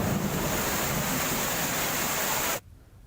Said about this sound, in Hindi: पानी के इस बहाव को देखिए, ये कोई समुद्र की लहरें नहीं, ये सड़कों पर बहता पानी है